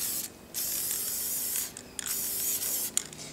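Oil-based dye penetrant hisses from an aerosol can onto a metal test piece in short bursts, loud and close, with brief pauses and small clicks between sprays.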